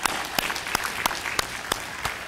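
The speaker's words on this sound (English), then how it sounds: "we're going to clap like this" An audience at a college speech night claps together in a steady rhythmic beat, roughly three claps per second, over a dense wash of scattered hand claps in a hall.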